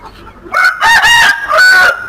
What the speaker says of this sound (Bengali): এটা অরিজিনাল পাহাড়ি জাতের মোরগ এবং এটা হলো মুরগি।